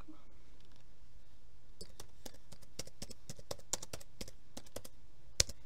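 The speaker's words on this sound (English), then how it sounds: "I'm typing with one hand, so I might be a little slow" Computer keyboard typing done one-handed, irregular clusters of close, crisp key clicks with brief pauses between bursts, no talking.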